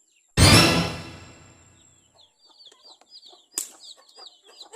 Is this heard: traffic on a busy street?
no